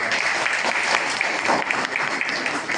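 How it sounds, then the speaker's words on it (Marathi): An audience at a Buddhist community lecture gathering breaks into dense, sustained clapping that stays loud and even throughout. "त्यांच्यासाठी एकदा सर्वांनी टाळ्या वाजवा"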